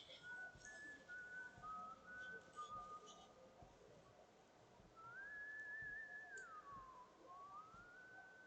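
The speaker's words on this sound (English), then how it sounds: "The whistling just keeps on teleporting from left to right constantly." Eerie whistling in the horror video game White Day drifts in a thin melodic tune, with short notes early and then a longer wavering phrase, faint and spread between left and right.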